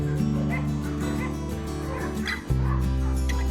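A rescued dog that was chained for years whimpers and gives little yips close by, with several short high whines in a row outdoors on a walk.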